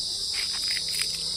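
Insects on a rocky hillside climb at Ranganayakula Gutta near Nizamabad fill the air with a loud, steady, high-pitched cricket-like drone, with faint rustling patter underneath and no talking.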